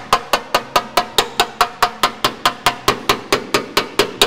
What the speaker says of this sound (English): I've got my dolly on the back side of this dent and I'm just gonna hammer down